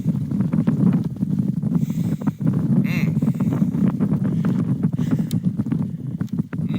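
Gusty wind buffets the microphone in low rumbling bursts, with faint clattering and rustling underneath.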